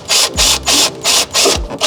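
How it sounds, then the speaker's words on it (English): A power drill bores a hole beneath the intake near the air filter on a VR6-engined MR2 Spyder, four loud whirring bursts with short pauses between them, close by and with no speech. "The other side, I have to drill."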